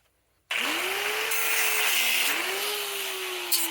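A power tool grinding through a wheel bearing hub on a Pontiac Torrent axle starts abruptly and runs steadily. It has a loud, harsh whine that dips briefly in pitch under load, then recovers.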